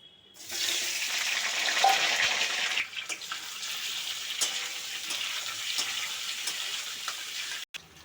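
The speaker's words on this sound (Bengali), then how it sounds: "এবার আলুগুলো আমি ভেজে নেব" Peeled boiled potatoes frying in hot oil in a pan, a loud continuous sizzle that starts abruptly and holds steady for several seconds with faint scraping, then cuts off briefly near the end; no speech.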